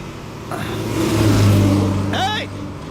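A car engine revs and strains as the vehicle backs up with its bumper stuck, a steady low drone that swells in the middle, while people talk and shout over it.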